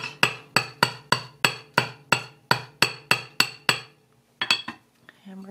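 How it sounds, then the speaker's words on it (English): A hammer taps wire on a steel plate in a quick, even rhythm, about a dozen sharp ringing strikes, then a short pause and a couple of final clinks. "hammer it, tap it a couple of times"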